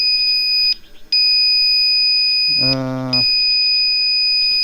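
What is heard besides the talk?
Commander GT Pro electric unicycle warning beeping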